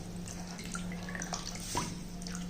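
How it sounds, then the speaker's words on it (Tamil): Water from washed pearl millet drains through a sieve into a vessel below, giving faint close dripping and trickling over a constant low hum. "நம்ம ஜல்லடையில் போட்டிருந்தோம், தண்ணி கொஞ்சம் ஜல்லடையிலேருந்து தண்ணி இறங்கிருச்சு"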